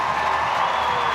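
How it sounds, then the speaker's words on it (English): A Scotstoun rugby crowd at a women's Six Nations match between Scotland and France cheers a try, a broad, sustained roar of voices and applause heard from a distance. "the Scotstoun crowd have something to cheer"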